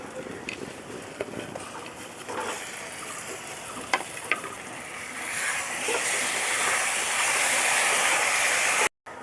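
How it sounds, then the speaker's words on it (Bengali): Fried potatoes drop into a pan of oily, well-cooked spice masala for an egg omelette curry. A quiet background sizzle swells into a louder, steady hiss partway through, with a few light clinks before that. "এখন এর মধ্যে দিয়ে দেবো ভেজে রাখা আলুগুলো।"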